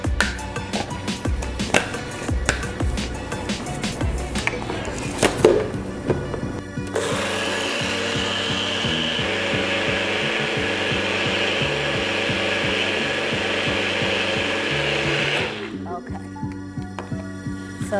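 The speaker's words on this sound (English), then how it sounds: "now I'm going to blend it in my blender cup." A blender cup whirs steadily through pancake batter for several seconds after some clattering and handling noises, then cuts off abruptly near the end.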